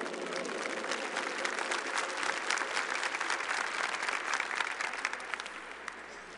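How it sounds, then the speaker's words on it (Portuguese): Sustained applause from a church congregation, dense steady clapping that fills the room from start to finish, with a few scattered voices mixed in. "Vamos aplaudir o nosso rei."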